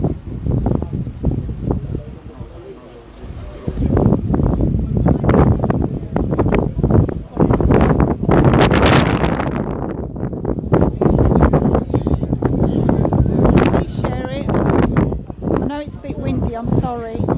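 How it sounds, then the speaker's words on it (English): Strong wind buffets the microphone in heavy rumbling gusts, with a person talking through the roar. "It's just too windy, isn't it?"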